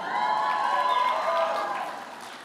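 A large conference crowd applauds at a Faith & Freedom Coalition event, with a dense, steady wash of clapping that stays loud and slowly fades toward the end.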